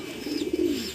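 Racing pigeons coo in a low, throaty burble at a loft during a derby, a single close rolling call that swells and fades over one second.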